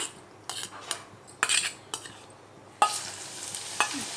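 A coarse paste of onion and curry leaves hits hot oil for a homemade hair oil, with several metal spoon clinks and scrapes against the pan and a sizzle that grows louder in the second half.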